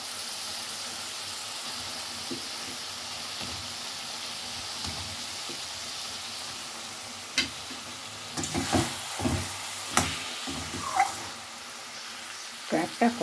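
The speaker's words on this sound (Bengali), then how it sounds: "বাকি এবারে ভেজে রাখা ক্র্যাবগুলো দিয়ে কষবো।" Fried crab pieces sautéed in a thick masala, with sizzling and scraping stirs that grow into louder clatters of the spoon in the pan toward the end, close and steady.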